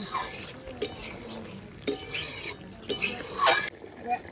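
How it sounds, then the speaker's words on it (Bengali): Ground roasted cumin powder being stirred into a curry in a pan, with a few sharp scraping and clinking spoon strokes over faint sizzling, fairly close, with a voice faintly present. "ভালো করে মিশিয়ে এবার নামিয়ে নেব"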